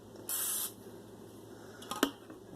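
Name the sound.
olive oil non-stick cooking spray sprayed onto a pan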